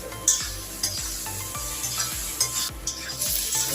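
Onions sizzling with salt in a pan for mutton curry, a steady frying hiss broken by regular scraping strokes of a spatula stirring, close up with no talk.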